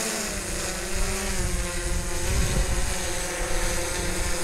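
A DJI S800 EVO hexacopter drone hovers in gusty wind of about 20 knots, its rotors holding a steady, loud multi-toned drone mixed with wind buffeting and rumble throughout.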